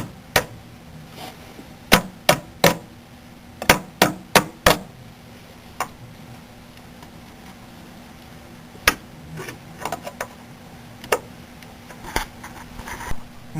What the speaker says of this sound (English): just grab something like a wrench and very carefully tap it into place